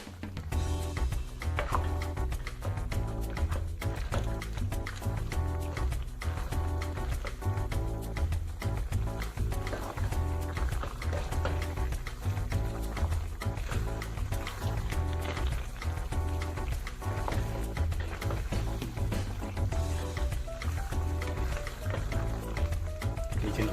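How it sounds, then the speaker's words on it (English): Jerk chicken alfredo pasta being stirred in a pan, giving a steady, continuous wet squishing and sloshing of thick creamy sauce, close and fairly loud, with faint background sound throughout and no speech. "And now we'll just stir that all in."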